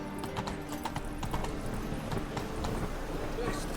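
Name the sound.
horse Roach's hooves clip-clopping in The Witcher 3 video game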